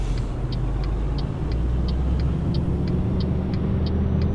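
A Scania truck pulling a tandem trailer drives through snow in Euro Truck Simulator 2, giving a steady low engine rumble and drone with a faint, regular high ticking above it, and no voices.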